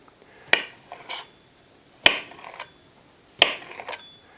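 A knife slicing kielbasa into thin pieces on a cutting board, three sharp chops about a second and a half apart, each followed by a softer scrape, close and clear with no talk.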